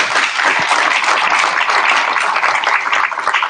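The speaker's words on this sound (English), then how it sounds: "Give a round of applause." An audience at a Tampa Bay transportation panel event claps in dense, sustained applause that stays loud and even throughout, with no pauses.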